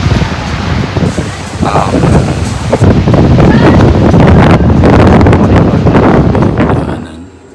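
Strong wind on a cruise ship deck buffets the microphone in a steady, loud roar, with a low rushing rumble like open water underneath, fading near the end.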